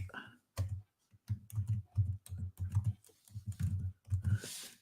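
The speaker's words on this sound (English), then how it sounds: "I'll type it in" Rhythmic bursts of typing on a computer keyboard, a steady run of fairly close clicks broken by short pauses, with no voices.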